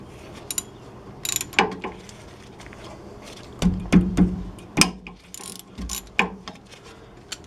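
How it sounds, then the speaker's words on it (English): A hand ratchet clicks and cranks as it loosens the 14 mm brake caliper mounting bolts on a 2019 Chevrolet Silverado. It comes as close, sharp bursts of ratcheting with short pauses between them and no talk. "next we'll take the caliper mounting bolts out."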